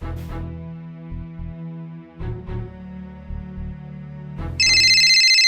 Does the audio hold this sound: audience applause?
no